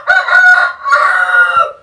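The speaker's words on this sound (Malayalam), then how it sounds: "ഇത് ഒരു കോഴി ആട്ടോ, ഇത് ചെറിയ കോഴിയാണ്" A small fancy mottled bantam chicken calls loudly and close, two drawn-out crowing clucks separated by a brief pause, with no other sound around it.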